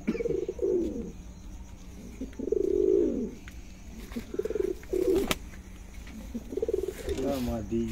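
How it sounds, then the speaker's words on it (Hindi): Chinese commando breed pigeons coo in repeated low throaty bursts with short gaps, close by, while someone talks over them at intervals. "कबूतर जितने देख रहे हैं आप, ये भी चीनी ब्रीड है, इन्हें कमांडो ये कहते हैं"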